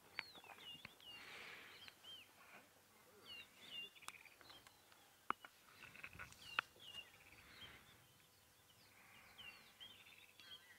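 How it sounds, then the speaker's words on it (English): Morning birdsong on a sunrise safari drive, with scattered faint chirps and whistled calls at a distance against quiet ambience and occasional soft taps. "Noisy birds this morning."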